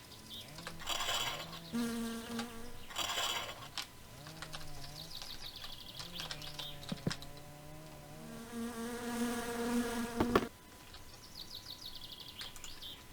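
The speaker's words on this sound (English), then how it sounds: "These mosquitoes are driving me nuts." Mosquitoes buzz in the video game My Summer Car, whining close by in repeated swells that rise and fall over several seconds, with other game sounds in the background.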